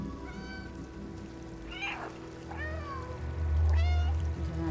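Several cats meow in the video game Stray, three or four rising, plaintive calls spaced a second or so apart, over a soft ambient backdrop of dripping and rain-like game sounds and a low hum.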